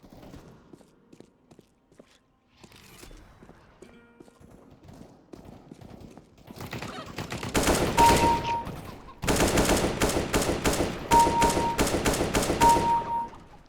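In Counter-Strike: Global Offensive, an AK rifle fires in sustained rapid bursts of loud automatic shots that swell in the second half, following quieter game ambience with scattered footsteps.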